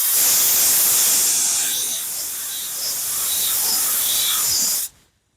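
Car body work sanded by hand with sandpaper, a continuous loud rasping hiss close up with faint rhythmic strokes, ending abruptly in silence.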